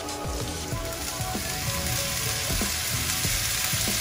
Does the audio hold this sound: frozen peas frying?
yes